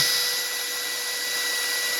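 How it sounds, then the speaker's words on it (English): Drill boring a center hole in metal, a steady high-pitched whine with a sustained tone, loud and close throughout. "you want to start a nice center drill to give your next drill bit an opportunity to grab material"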